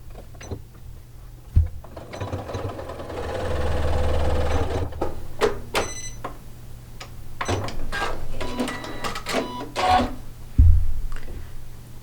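Sewing machine stitching fabric pieces for a hexagon table topper, running in a steady whirring burst, then stopping and restarting in shorter runs with small mechanical clunks, close and alone.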